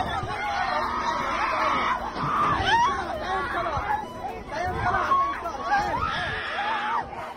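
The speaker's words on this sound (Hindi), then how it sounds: "तो ये आप सुन पा रहे हैं, शरणार्थी कैंप पर हमले के बाद चीख पुकार," A crowd at a bombed refugee camp in western Rafah screams, wails and cries after an airstrike on a UNRWA compound. A continuous chaotic babble carries shrill cries rising above it, heard at moderate distance.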